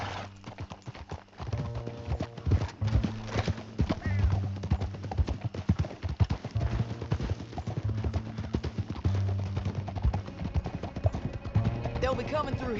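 Rapid, steady clip-clop of galloping horse hooves in Red Dead Redemption 2 runs throughout, loud and close, over a low rumbling game soundtrack with occasional voices.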